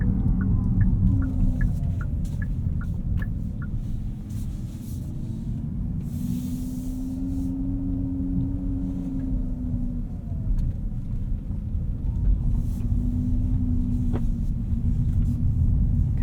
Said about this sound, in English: I assume it's just to let pedestrians know that you're an EV and you want to make some type of noise at parking lot and neighborhood speeds